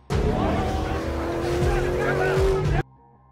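A car in a film chase skids with squealing tires as it blocks the way, loud and close for about three seconds before cutting off to quiet music.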